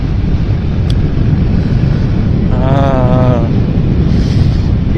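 Strong cold wind blows hard against the microphone in a dense, unbroken roar, with a brief tonal cry partway through.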